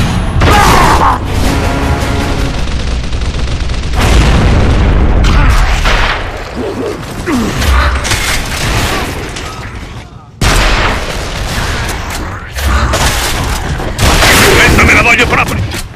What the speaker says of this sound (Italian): Mi stanno sparando!